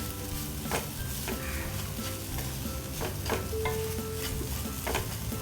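Sweet potato stir-fry sizzles in a pan while being stirred, soft scraping strokes recurring every second or so over a steady low frying crackle, close but quiet, with no voices.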